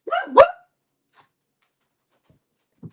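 A quick yappy dog bark up close, followed by near silence and a faint soft thump.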